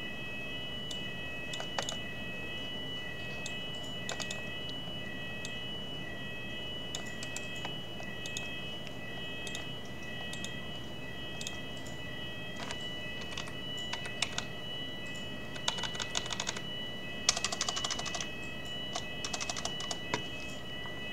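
Computer keyboard being typed on, a host name entered at a terminal: a quiet room with scattered single key clicks, then faster bursts of typing near the end.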